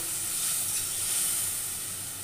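Steady sizzle of masala spices with coriander powder and salt frying in oil in a wok, a continuous bright hiss at moderate level, close by, with no talking.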